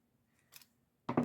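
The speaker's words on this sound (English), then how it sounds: "And then we'll just cut off this excess." Scissors snip through excess fabric on a handmade hat for a junk journal: a faint short snip, then a louder, crisp cutting burst close by, with no talking.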